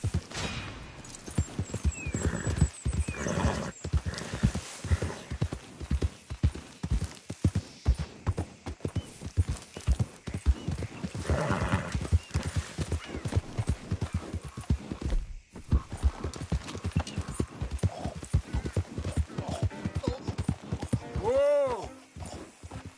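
Horse hooves clip-clopping at a steady gallop in Red Dead Redemption 2, with a rider's voice over it and a loud neigh near the end.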